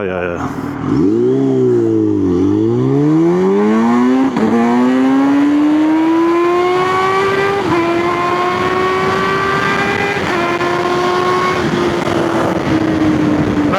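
Kawasaki Z H2 supercharged naked motorcycle accelerating hard, loud close engine note dipping then climbing steadily through several gear shifts, with brief breaks between rising pitches, a rider's voice faintly under it.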